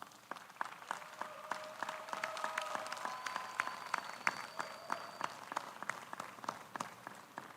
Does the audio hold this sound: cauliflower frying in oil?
no